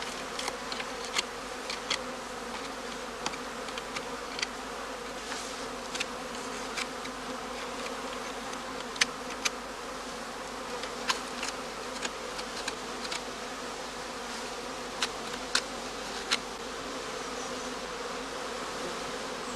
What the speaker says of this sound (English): The bees now set about enlarging the entrance of their skep by gnawing it and smoothing it all around with propolis.